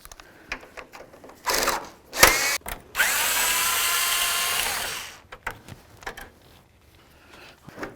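A power tool removes the plastic grill's mounting bolts on a 1992-99 GMC K1500 pickup: a short whirring burst, then a longer sustained whine of about two seconds, up close with quiet handling noises between.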